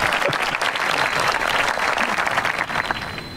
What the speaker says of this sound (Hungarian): Taps